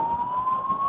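A police siren wails steadily on a single rising tone, loud and close, on a street closed by police outside a hotel during a football match.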